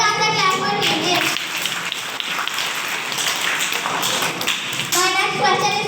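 Students at a school quiz competition clapping for a team after a correct answer, a few seconds of lively, close group clapping between bursts of a speaker's voice at the beginning and end.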